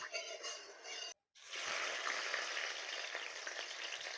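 Salted, turmeric-coated hilsa fish pieces fry in oil with a bright, continuous sizzle and spatter, interrupted by a brief silent gap before the frying resumes steadily and fairly close.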